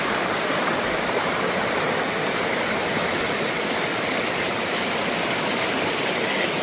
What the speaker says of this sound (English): This water is flowing.